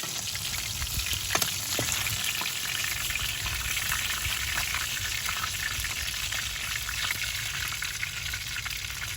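Tilapia fish frying in hot oil in a home kitchen, giving a steady, continuous sizzle and crackle at close range with a few brief sharper pops, no voices.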